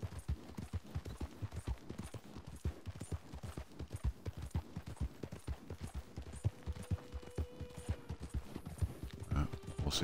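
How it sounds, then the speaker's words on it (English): Steady clip-clop of horse hooves trotting at an even rhythm in Red Dead Redemption 2, continuous throughout with a faint background hum. "I was going to say the horse's feet don't sound right."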